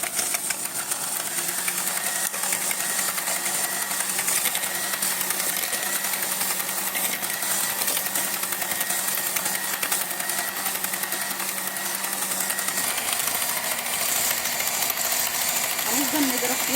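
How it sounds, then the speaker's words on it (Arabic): An electric hand mixer beats cake batter with added vanilla for an orange-sauce sponge cake, giving a steady whirring drone that runs unbroken at close range, with a lower motor tone that drops away near the end. "بعد كده هنجيب بقى المضرب بتاعنا ونبتدي نضرب بقى ايه كله كده عشان يتجانس مع بعضه."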